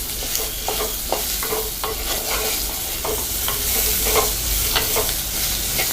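Vegetables sauté, sizzling steadily in a hot pan for moong dal sambar, while a utensil stirs and scrapes at irregular intervals, close and continuous, no voices.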